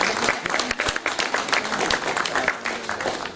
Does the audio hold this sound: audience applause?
yes